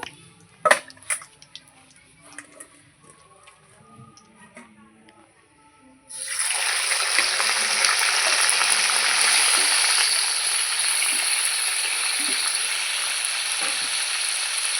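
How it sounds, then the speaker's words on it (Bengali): A few quiet clinks give way to a loud, sudden sizzle as meat hits hot oil with a bay leaf, frying steadily and close up. "প্রথমে মাংসটা একটু ভাজা ভাজা করে নেবো"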